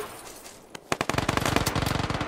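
Gunfire in the video game PUBG: one sharp shot, then a rapid burst of automatic fire with evenly spaced loud cracks, close and without talk.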